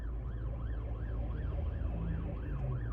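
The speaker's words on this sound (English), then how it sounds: "There's an ambulance coming and 2 cars stopped like opposite each other to let past." An ambulance siren on the road, a steady rapid wailing sweep repeating about three times a second, moderately loud over a low rumble of car engine and road noise.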